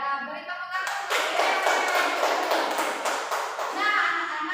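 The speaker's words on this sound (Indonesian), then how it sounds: "Ya, boleh tepuk tangan." Young children in a third-grade primary school classroom clap together in a burst of brisk, scattered hand claps that rise and hold for several seconds, with faint voices mixed in.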